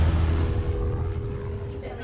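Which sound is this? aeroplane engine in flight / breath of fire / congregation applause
aeroplane engine in flight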